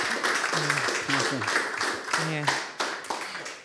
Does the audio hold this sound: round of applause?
yes